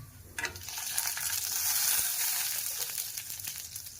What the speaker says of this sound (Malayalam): 2 വറ്റൽമുളക് ഇട്ടു, ഇതിനകത്തൊന്ന് തളിയിട്ടെടുക്കാം